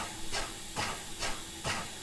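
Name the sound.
static narrow gauge German steam engine hissing, Train Sim Germany video game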